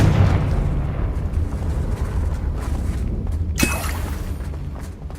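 A Confringo blasting spell goes off in Hogwarts Legacy, a sharp burst over a dense, rumbling game soundscape, with a loud crack near the middle and booming low noise throughout.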